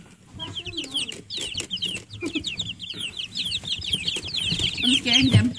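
Young chicks clucking and peeping at new nipple waterers, a busy cluster of high chirps with lower clucks, close and continuous, while people talk softly nearby.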